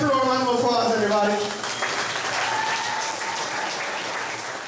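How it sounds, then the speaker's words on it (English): An audience on a studio backlot tour ride claps for the crew, a burst of applause that follows a man's spoken line and then settles into a steadier, slightly softer clapping. "Give our crew a round of applause,"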